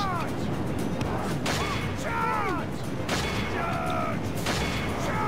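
Archers loose volleys during a battle in Total War: Three Kingdoms, a dense, continuous din of shots and impacts with someone talking over the fighting.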